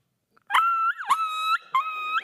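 A handheld animal caller imitates a small dog yelping after its tail is caught in a screen door: three sharp, close whining yelps with bending pitch and short gaps, no one speaking.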